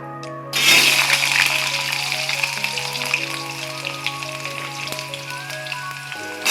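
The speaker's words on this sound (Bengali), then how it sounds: "সব আলুগুলোই আমি দিয়ে দেবো তেলের মধ্যে" Potato pieces drop into hot oil and set off a sudden loud sizzle that keeps crackling steadily, with light stirring clatter over a faint background tone.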